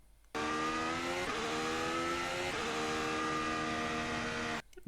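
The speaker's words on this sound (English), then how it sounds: "which allows me to accelerate quick enough that before I enter the next corner after this, I should be in 6th gear at that time." A 2026 Formula 1 car in a racing video game screams up through the gears at Suzuka, its loud engine rising in pitch with brief shift dips before cutting off abruptly.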